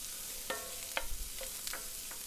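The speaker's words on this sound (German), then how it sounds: "Und lassen das jetzt alles einmal gemeinsam anschmoren. Die Zwiebeln, den Knoblauch, die Tomaten, die Chipotles." Onions, garlic, tomatoes and chipotle peppers braising together in a pan for mole poblano, a soft steady sizzle with a few sharp scraping stirs and clacks of a utensil.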